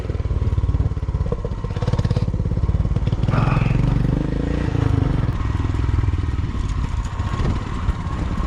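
A motorcycle rides down the Shinkula mountain pass in Zanskar, its engine note rising as it regains power at lower altitude, with a steady, close, continuous drone and some clatter throughout.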